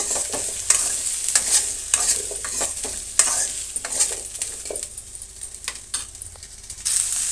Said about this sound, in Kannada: ಟೊಮೆಟೊ ಕೂಡ ಚೆನ್ನಾಗಿ ಫ್ರೈ ಮಾಡ್ಕೋಬೇಕು.